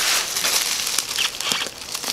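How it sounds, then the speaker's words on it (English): Tissue paper and bubble wrap around a Christmas altered book crinkle and rustle as they are pulled open, a brief, close burst of dense crackling with a few sharper snaps. "she's got it wrapped up in some tissue paper"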